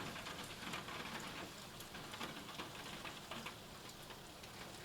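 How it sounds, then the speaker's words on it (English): Soft, steady rain falling, a faint continuous patter with scattered drips, no voices. "right now watching the rain"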